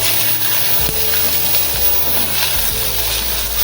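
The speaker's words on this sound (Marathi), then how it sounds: "खोबरं छान लाल रंगावर फ्राय करून घेऊया" Grated coconut frying in a pan, cooking toward a reddish-brown colour, gives a steady, loud sizzle throughout, with a low background hum underneath.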